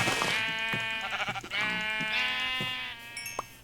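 Sheep in a Minecraft game bleat repeatedly, a series of close, loud wavering bleats that overlap almost continuously with a few short gaps.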